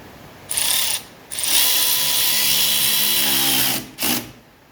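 Power tool driving a screw back into a part in the engine compartment of a 1985 Mercedes 300CD, three bursts of whirring: a short one, a long sustained run, then a brief final burst.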